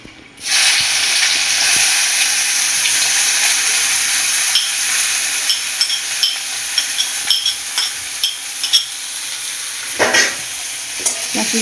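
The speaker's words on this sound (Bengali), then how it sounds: "লাল লাল করে ভাজবো" Chopped onions and dried chilies fry in oil for a spicy mutton curry with a loud, close, continuous sizzle that starts suddenly, joined later by scraping stirs and clinks of the spoon against the pan.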